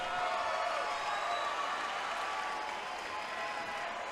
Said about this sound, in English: let's give both fighters a big round of applause.